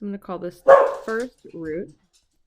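Household dogs bark several times in short, sharp bursts close by, layered over someone speaking during a math lesson.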